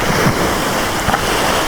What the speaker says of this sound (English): Waves are picking up